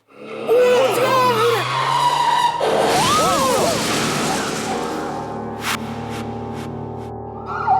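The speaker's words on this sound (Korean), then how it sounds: "정말 끔찍하고 충격적인 교통사고가 발생합니다" A car in a dramatized traffic accident on a Paris night skids with loud, wavering tire squeals, followed by a rushing crash-like roar that slowly fades. A voice talks over part of it.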